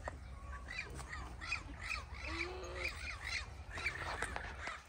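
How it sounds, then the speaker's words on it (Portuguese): A wild parrot squawks repeatedly outdoors in a natural setting, harsh rhythmic calls at moderate distance over a steady background of ambient noise, with no one talking. "Você já viu o papagaio cantando?"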